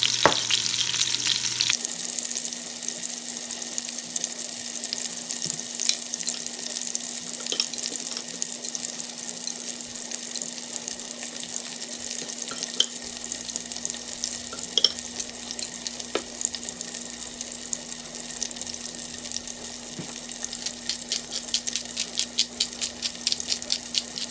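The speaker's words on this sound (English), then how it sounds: "I'm browning enough to where I want them." Chicken legs seasoned with adobo browning in a Carey pressure cooker, a steady loud sizzle and crackle of frying that runs unbroken throughout with a faint underlying hum and no talking.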